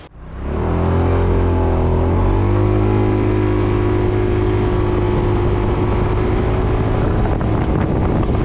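A SYM ADX 300 scooter engine pulls away and accelerates while being ridden, its drone rising in pitch early on then settling into a loud, steady cruising hum with wind buffeting the microphone throughout.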